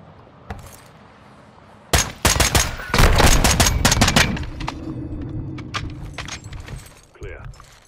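Rapid video-game gunfire bursts loud and close in a clustered barrage, then thinner scattered shots trailing off over a steady low hum, with a voice briefly heard near the end.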